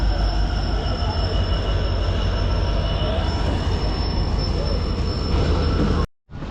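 The Vivek Express, a long-distance Indian train heard from inside a sleeper-class coach, rolls along loudly with a constant rumble and a sustained high metallic wheel squeal that continues throughout before cutting off abruptly near the end.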